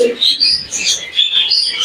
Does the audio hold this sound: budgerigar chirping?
yes